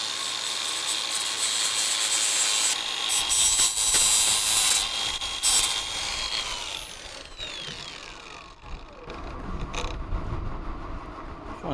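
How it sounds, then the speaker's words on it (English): Cordless Makita grinder sanding down cuts on a wood frame beam, a close whining grind with scraping and creaking, rising and falling as the tool works and spins down, no talking. "So we've got the cordless Makita grinder. This is what we use to sand down all of our cuts."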